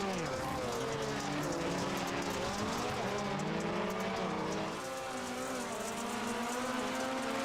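Rallycross race cars roar around Phoenix Raceway during a night heat, several engines droning and shifting pitch continuously, loud and busy with crowd-like wash and no pauses.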